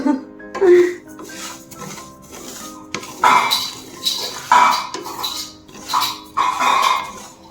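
A small child plays with a spread of pots, pans and utensils, making irregular bursts of metallic clanks, clinks and rattles, while someone talks nearby.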